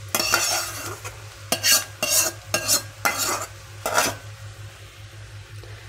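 Noodles tossed with masala and fried egg in a pan, with repeated scraping and clinking stir strokes in uneven bursts over a low sizzle, close and fairly loud.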